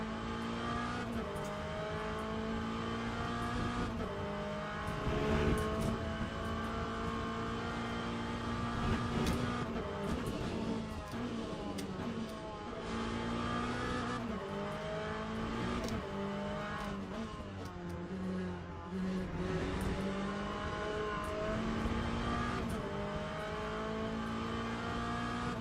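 An LM GT3 race car laps in the sim racing game Le Mans Ultimate, its engine droning steadily with repeated revving shifts and gear changes throughout, without speech.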